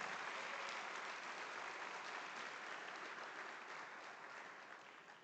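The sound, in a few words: audience applause at a foundation day event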